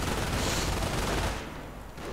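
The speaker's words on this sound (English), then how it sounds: "And there's an MG42 right there." MG42 machine gun fire rattles in a dense, continuous burst during a Company of Heroes match, loud and sustained before cutting away and fading near the end.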